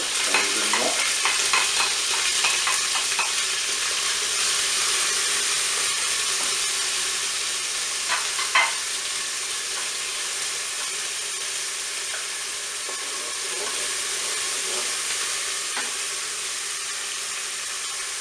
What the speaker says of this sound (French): Je vais maintenant faire revenir l'ensemble des ingrédients puisque le préchauffage est terminé. Je vais commencer par les oignons.